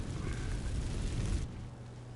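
In Hogwarts Legacy, the Incendio spell sets dry vines alight with a short, rumbling whoosh of fire that burns for about a second and a half, then cuts off.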